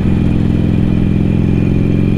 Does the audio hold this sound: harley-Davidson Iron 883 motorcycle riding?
yes